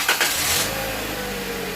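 A 2015 Toyota Corolla engine turns over right after a battery replacement, a brief crank catching into a steady idle that holds on for the rest of the short stretch, close and moderately loud.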